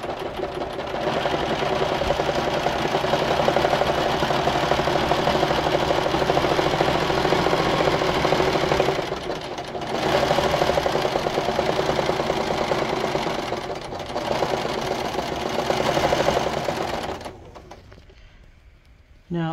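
A serger overlocks the edges of trouser fabric for 18th-century fall front trousers, running in long steady bursts with short pauses between, close and continuous before stopping near the end.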